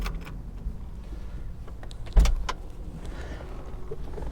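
Electric convertible top on a 1993 Porsche Carrera 2 lowering, a steady motor whir with clicks and a sharp latch clunk midway, close and alone.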